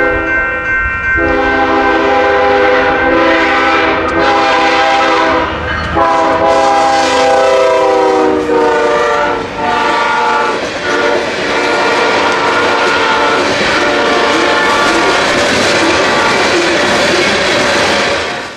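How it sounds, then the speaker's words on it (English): A BNSF coal train races through Tama, Iowa in March, its loud multi-tone horn blaring in long blasts over the steady roar and clatter of the passing cars. "A BNSF coal train is seen traveling quickly through Tama in March 2019."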